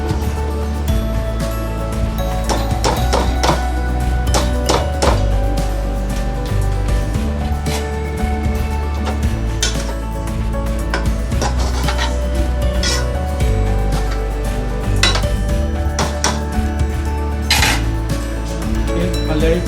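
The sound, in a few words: cooking and stirring cut vegetables into fried rice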